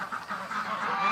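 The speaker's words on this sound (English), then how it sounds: "The geese are going through, the ducks are going through there." Geese honking as they fly through close over a rural property with ducks nearby, a run of overlapping nasal calls at moderate loudness with no talk.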